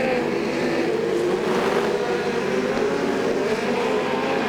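Speedcar engines roar around Archerfield Speedway during a 2001/02 Australian title A-Main, with a Ford speedcar leading the field; a loud, continuous droning blare of several engines at racing speed.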